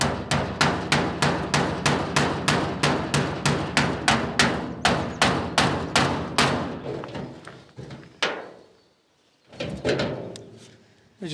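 A metal bolt plate is struck in steady, rapid hammer blows, about two to three per second. The blows are loud and ringing, then slow to a few isolated heavy strikes near the end.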